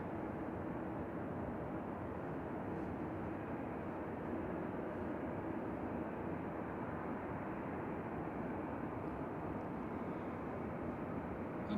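An Air France Airbus A220 airliner rolls along after landing, giving a faint, distant, steady jet rumble that stays even throughout with no talk.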